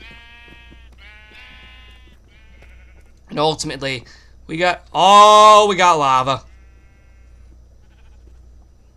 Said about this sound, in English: we do have all these cave sheep.